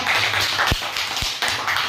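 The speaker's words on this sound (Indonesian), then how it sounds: "Tepuk tangan untuk kelompok 4." Dense clapping from a group of students fills the space after a group's classroom presentation, with a few sharper taps standing out in the steady applause.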